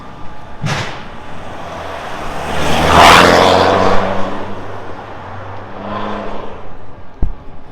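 Ford Ranger with a 2.2 diesel engine and a Varex remote-controlled valve exhaust revs up, the exhaust note swelling to a loud peak in the middle before settling into a rumbling idle with another lighter blip.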